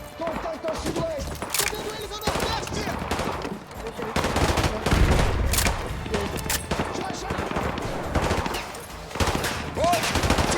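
Call of Duty 3 combat rings with rapid machine-gun bursts and scattered gunshots, dense and loud throughout, with shouted voices mixed in.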